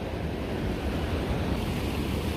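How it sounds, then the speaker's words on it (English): A full river in Yosemite rushes past in a constant, loud broadband roar with no breaks, mixed with some wind noise. "You can tell this river is just full."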